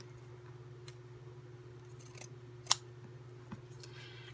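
Scissors cut an upholstery fabric sample in a quiet room, giving a couple of faint snips, one sharp clip near the middle, over a low steady hum.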